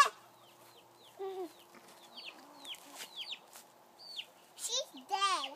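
A hen being handled gives a series of short clucks and squawks, some close and loud, scattered irregularly among small sounds of movement, with a child and an adult talking nearby.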